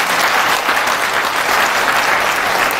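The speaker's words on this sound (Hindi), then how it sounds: "एक बार जोरदार उनके लिए ताली तो बजा देते हैं।" An audience at an award ceremony breaks into loud, dense, sustained applause, many hands clapping at once without pause for the whole stretch.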